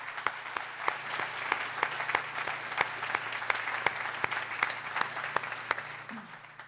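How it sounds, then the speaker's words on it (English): Applause at an Innovation Campus groundbreaking ceremony: steady clapping from a gathered crowd, dense and even throughout, moderately distant, with no talk over it. "I'd just like to ask for another round of applause for everyone who has helped make today happen."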